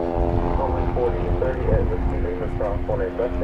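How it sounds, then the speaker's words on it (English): Propeller-driven airplane passing over DFW Airport, a steady droning engine hum with sustained tonal whine, fairly close and constant throughout, with a voice talking over it. "I'm hearing a propeller-driven plane."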